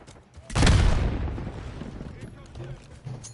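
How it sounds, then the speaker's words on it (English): A grenade blows up in a shooting video game with one loud, booming blast that rumbles and fades over a couple of seconds, while people talk and chatter faintly around it. "Incoming frag!"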